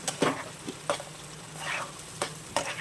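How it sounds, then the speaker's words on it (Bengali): Paste of ground pointed gourd (potol) hits a hot pan with garlic and is stirred, giving a soft continuous sizzle with several scraping stir strokes close by. "আমি দিয়ে দিচ্ছি পটলের পেস্টটা যেটা বেটে রেখেছিলাম"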